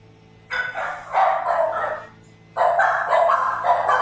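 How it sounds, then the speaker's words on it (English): Several dogs bark in loud, rapid bursts nearby, two clusters of yapping barks separated by a brief pause, reacting to a mailman at the house. "Dogs are going crazy with the mailmans here."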